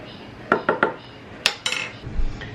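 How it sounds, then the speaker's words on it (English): Utensil clinks against a bowl as a frothy yeasted milk mixture with salt is stirred: a quick run of three sharp taps, then a couple more knocks and a soft scrape, close and fairly loud with no talking. "And give that a little stir."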